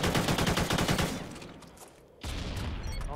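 A rapid burst of gunfire erupts in a video game as a player shoots through a wall during a search-and-destroy round on the Freight map, loud and close, followed by a brief pause and more shots.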